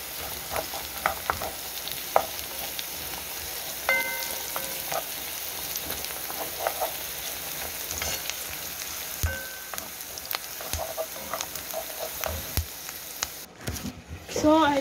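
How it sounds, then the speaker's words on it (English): Onions, peppers and garlic sauté in a pan with a steady, close sizzle and occasional stirring clicks, running continuously throughout. "So these are just onions, peppers, and garlic. I'm just sauteing them."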